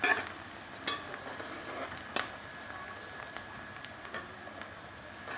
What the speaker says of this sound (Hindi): ये देखें, ये अब हमारा प्याज ब्राउन हो रहा है।